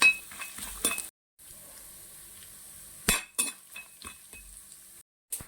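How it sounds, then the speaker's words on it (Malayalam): Coconut pieces fry toward golden brown in a pan for a beef roast, a faint sizzle broken by clinking metal stirring strokes and brief gaps of near silence. "നല്ലവണ്ണം നമ്മൾ തേങ്ങാക്കൊത്തൊന്ന് മൂപ്പിച്ചെടുക്കണം."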